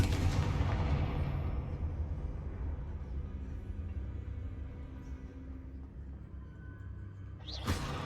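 A Confringo spell blast from the video game Hogwarts Legacy goes off as a booming, rumbling explosion that slowly decays, with a sharp whooshing burst near the end.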